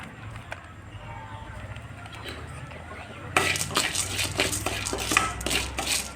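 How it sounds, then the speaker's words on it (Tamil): Ridge gourd peel dry-roasting in a pan, soft scraping at first, then busy clinking and scraping of a spatula against the metal pan, with someone talking over it. "நல்லா வறுத்துட்ருக்கோம் நல்லா வறுபடணும்"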